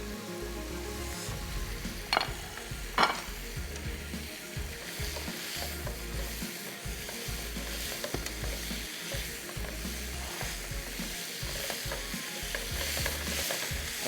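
Onion, capsicum and tomato stir-fried in a pan for beef biryani, a steady sizzle with a constant scraping stir running throughout, plus a couple of sharper clinks of the spoon against the pan.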